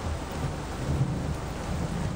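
A summer thunderstorm over St Helens, Tasmania, with a deluge of heavy rain: a steady roar of rain over low, rolling rumble, loud and continuous, with no voices.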